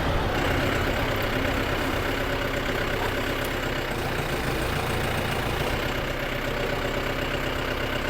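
A 58-horsepower Yanmar YM358R tractor's diesel engine runs loud and close, a steady heavy rumble that holds without a break, with no talking.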